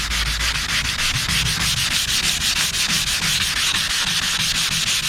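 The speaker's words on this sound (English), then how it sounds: "You want to let the sandpaper do it." A sanding block with sandpaper is rubbed by hand across a surface in quick, even back-and-forth strokes, a close, loud, continuous scratchy rasp with no talking.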